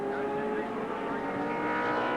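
Touring cars race at Wanneroo Raceway in the 1984 ATCC round, engines roaring loud and steady as they sprint over a hill and down the straight, with commentary running over the top.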